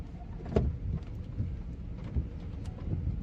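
Thunderstorm with rain during tornado warnings in West Virginia, with a sharp nearby thunder crack followed by low rumbling and a steady wash of rain; no voices.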